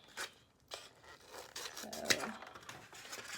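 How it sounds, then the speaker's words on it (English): Scissors cutting a square out of an egg carton, soft close snips and scratchy rubbing of cardboard in uneven strokes, quiet throughout. "And we're just going to cut, and I'll show you if I get it cut out here. I'm just going to cut a square."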